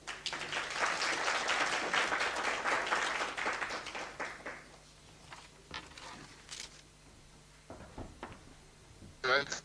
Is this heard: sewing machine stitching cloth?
no